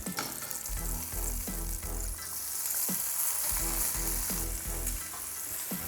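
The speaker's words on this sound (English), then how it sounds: "as your bacon's cooking, you can see how much grease has already come off" Bacon fries in a skillet as a dense, continuous sizzle close by, broken by rhythmic stirring or scraping strokes, with no voices.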